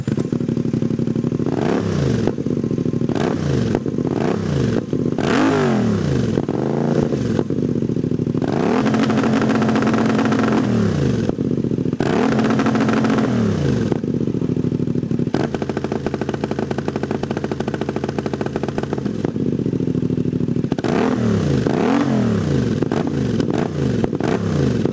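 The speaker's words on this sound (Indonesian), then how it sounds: "Gak ada yang ngalahin suara 2 silinder crossplane itu cakep banget." A CFMoto 450 MT's two-cylinder crossplane engine revs repeatedly, rising and falling in loud, throaty bursts close by, with a steady idle between the throttle blips.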